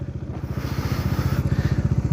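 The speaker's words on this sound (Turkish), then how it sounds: "Şimdi motor mesela yokuş yukarı çıkmaya çalışıyor." A car engine labours at low revs while pulling uphill during a driving lesson, giving a close, steady low throb with regular rhythmic pulses that grow slightly stronger; no voices.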